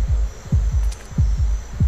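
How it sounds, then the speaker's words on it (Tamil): Heartbeat effect in the mobile horror game Death Park, a loud, deep double-thump pulse repeating steadily and close, with no talking over it. "இந்த ஹார்ட் பீட் கேட்டாலே ஒரு பீதியாகவே இருக்கு"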